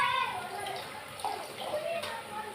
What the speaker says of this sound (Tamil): இப்போ இதுலேயே நான் புளியை கரைச்சி ஊற்றிக்கிறேன்